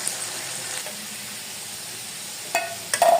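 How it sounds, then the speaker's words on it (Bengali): Potatoes frying in oil make a steady close sizzle, with a few sharp clinks of a utensil against the pan near the end, no voices. "তারপরে এই তেলেই আমি আলুগুলো দিয়ে এইভাবে সামান্য লাল করে ভেজে নেব।"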